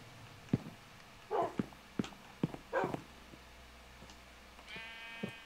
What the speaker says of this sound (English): Where did that sheep just go?